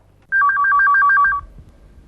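A telephone bell rings in a rapid, warbling two-tone trill for about a second, loud and close, then stops, leaving a quiet room.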